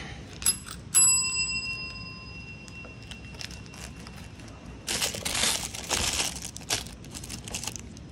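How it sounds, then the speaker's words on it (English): A doorbell at a home's front door rings a few bright, sustained tones near the start, followed by faint rustling and crinkling noises, quiet throughout and with no voices. "Please ring the bell."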